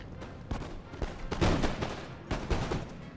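Musket volleys crackle in an Empire Total War battle on a Persia campaign against the Ottomans, several ragged bursts of overlapping shots in a steady sequence, loud and close with rumbling tails.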